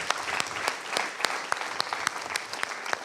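A small audience at a talk claps for a speaker, a brief burst of crisp individual hand claps, fairly sparse and close, at moderate volume.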